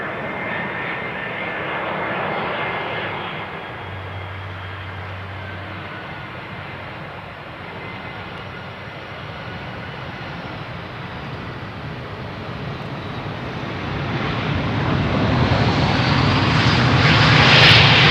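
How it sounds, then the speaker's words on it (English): ITA Airways airliner from Rome touching down on runway 27 at Amsterdam Schiphol on a cool day, a steady broad engine roar that holds through the approach and swells louder near the end as it rolls past. "Very gentle touchdown. The ITA Airways from Rome to Amsterdam."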